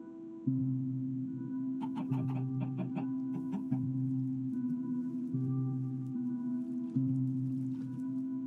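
A chicken in modded Minecraft clucks in short repeated bursts over a steady low background hum, the clucks clustered near the start and recurring sporadically throughout, with no talking.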